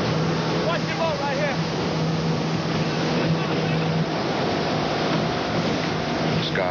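A motorboat circles on open water, its engine droning continuously under rushing water and wind noise, with people talking faintly in the background.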